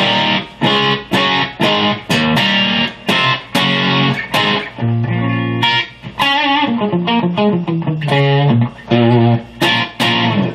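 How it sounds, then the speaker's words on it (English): Electric guitar with a humbucker pickup running straight into a Mesa amp with no pedals, playing a series of mildly overdriven chords and short riffs with clear picked attacks, loud and close, no talking. "here's the sound that I have without any of the pedals or anything in front of it, just the humbucker straight into it"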